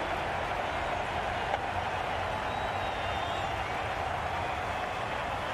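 A stadium crowd in Cricket 22 applauds in a steady, dense wash of clapping and cheering that holds at an even level throughout.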